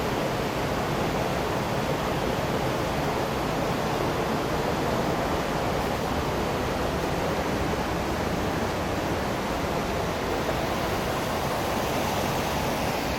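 Loud flowing water gives a dense, unbroken rushing roar that fills the whole thirteen seconds at steady strength, with no voices over it.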